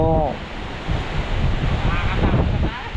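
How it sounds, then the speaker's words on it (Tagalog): Strong wind from an approaching typhoon buffets the microphone in a steady roaring rush, gusting louder midway, with brief voices at the start and end. "Lakas na ng hangin, ano?"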